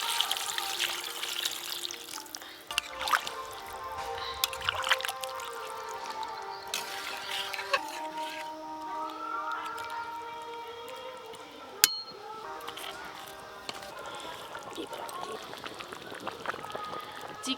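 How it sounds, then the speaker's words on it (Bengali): Water poured into chicken curry cooked with apple and mango leaves in a pan, a trickling, splashing pour with drips and wet squishing, close and moderately quiet, with faint sounds of movement around. "এবার জল দিয়ে দেব।"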